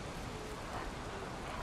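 Steady rain in the video game Valheim hisses as a dense, even wash of drops with no pauses, fairly loud and unbroken through the short stretch.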